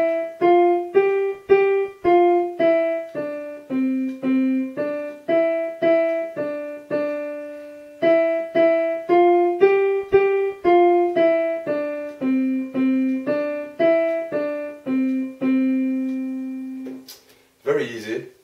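Electronic keyboard plays a simple five-finger beginner exercise on the right hand, clean single notes stepping up and down in a steady repeating rhythm, alone and clearly heard.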